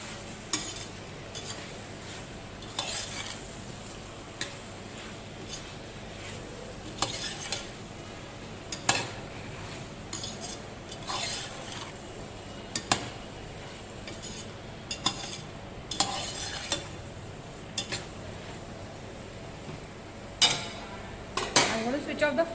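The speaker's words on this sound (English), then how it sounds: "Lightly mix the things because the potatoes are cooked" A spoon stirs potatoes and cauliflower for aloo gobi in a pan, scraping and clinking against the metal in irregular strokes over a soft, steady sizzle, close and clear throughout.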